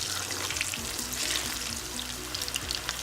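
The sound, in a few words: chicken 65 pieces frying in hot oil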